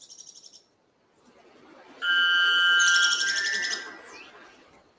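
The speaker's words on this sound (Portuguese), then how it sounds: "E é a trilha sonora dessa floresta. Sabiá preto, araponga e o vento constante." Forest birds sing in a dense rainforest setting: a brief high whistled phrase, then a loud, sustained burst of layered calls and ringing notes from sabiá preto and araponga, with a steady wind hiss underneath throughout.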